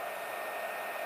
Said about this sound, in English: keeping in mind that this dryer is super powerful, I really don't want this to heat up on her scalp